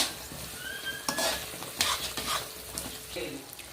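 Steady sizzling of prawns frying in a pan, with a utensil scraping and stirring through them in irregular strokes.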